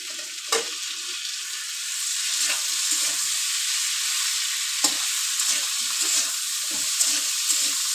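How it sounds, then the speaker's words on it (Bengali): Spinach and chopped tomato cook in a pan for palak sabji under a loud, steady hiss of frying, with a handful of scattered spoon knocks and scrapes as the greens are stirred; no voices. "টমেটোটা দিয়ে আমি আর একটু নেড়ে চেড়ে নেবো"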